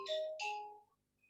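A short electronic phone ringtone sounds, two bright chiming tones in quick succession, near and clear, and then the room falls quiet.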